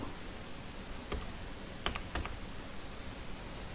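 A few sparse keystrokes on a computer keyboard, including a press of the Tab key while entering a number into an Excel spreadsheet cell: faint, isolated clicks over a quiet background hiss.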